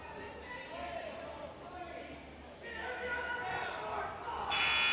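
A loud electronic buzzer sounds near the end, marking the close of the second period at a high school wrestling dual meet in a gym, rising over a commentator's talk and crowd murmur.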